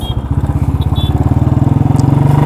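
A 2011 Royal Enfield Electra single-cylinder engine idles up close, a loud, steady thumping beat that quickens slightly toward the end, with no voices.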